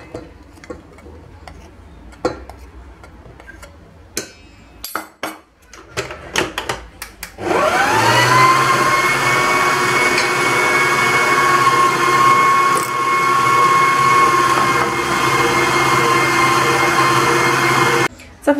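An electric mixer beats cake batter while flour is added a little at a time, a steady loud motor whine starting partway through after scattered clatter and handling sounds.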